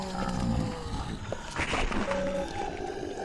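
A wild boar grunting in the video game Deadly Premonition, low guttural calls rising over a background game ambience at moderate volume for about three seconds.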